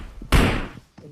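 A single grenade explosion in a video game lands as one short, sharp, thudding blast that quickly fades, with faint background sound before and after.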